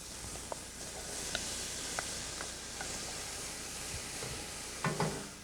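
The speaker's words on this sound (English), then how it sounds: "I'm just going to stir this around a little bit" Bacon frying in a pan while being stirred around, a constant moderate sizzle and hiss with scattered light utensil clicks and a brief clatter near the end, no speech.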